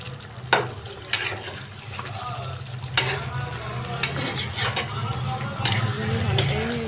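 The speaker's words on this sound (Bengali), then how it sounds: "এই যে আমার মাংসটা কষানো হইতেছে। যে আমি ভালো করে নিচে দিয়ে নেড়ে নিতেছি।" Goat meat curry browns in a pan while a spoon scrapes and stirs it from the bottom, giving a soft continuous sizzle broken by several sharp clinks and scrapes at irregular intervals.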